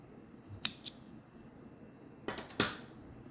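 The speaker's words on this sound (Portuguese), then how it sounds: "eu vou cortar essa linha" Scissors snip through a crochet thread, two quick closes early and a louder pair of sharp snips a moment later, near and distinct against a quiet background.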